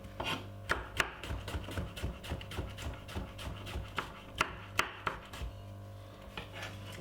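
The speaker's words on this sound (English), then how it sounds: "Cut it up really finely and put it straight to it like this." A knife chops cucumber finely on a board for a garlic salad, quick uneven taps close by and fairly quiet, with a faint low hum underneath and no voices.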